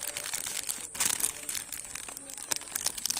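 Thin plastic fruit bag with a wire tie crinkling and rustling as it is slipped over a peach and folded shut, close and fairly soft, in irregular crackly bursts.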